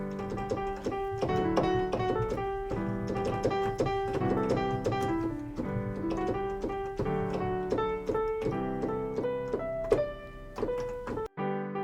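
Piano playing the verse of a song in a steady rhythmic pattern of repeated chords and melody notes, clear and close, with no talking, ending with a brief pause and final notes.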